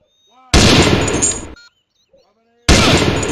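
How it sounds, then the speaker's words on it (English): A Browning machine gun in a desert-warfare video game training range, firing at targets in two loud, sustained bursts separated by a quiet pause with faint tonal game sounds, with no talking. "Use the Browning to take them down."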